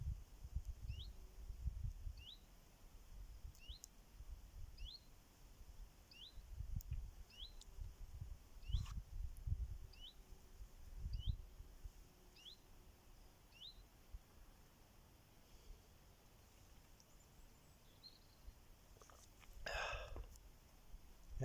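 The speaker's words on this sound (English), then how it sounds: "it's lovely listening to the nature, isn't it? The birds." Birds sing in the countryside at a campsite, a faint, regular series of short high chirps repeating every second or so over a low background rumble, with a brief louder call near the end.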